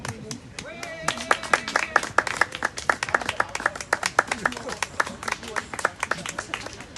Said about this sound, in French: je voudrais qu'on les applaudisse aujourd'hui